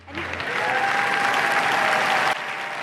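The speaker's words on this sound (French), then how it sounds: "Je pense qu'on peut faire un tonnerre d'applaudissements pour elles." An audience at a 2024 finale applauds the women of the well-being group in a dense, steady burst that swells quickly, holds for about two seconds, then cuts off sharply.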